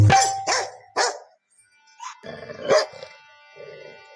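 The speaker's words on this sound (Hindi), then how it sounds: "बस वो कुत्ता भौंकते हुए आया और एक ही झपटा में रोटी लेकर भाग गया।" A dog barks close by in three sharp, evenly spaced barks, followed by a few softer yelps and whines, with no voices over it.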